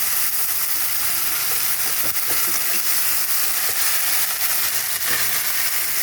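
Chopped tomato fries in onion and ginger-garlic paste, a loud, close, continuous hissing sizzle with light stirring clicks and no voices.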